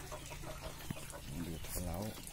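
Bantam chicks penned with a Toulouse goose cluck softly in short calls near the end, under steady background noise and someone talking.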